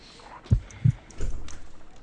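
Two deep, muffled heartbeat thumps, then a softer third, sound in a video game medical examination scene, low and close over a faint hum.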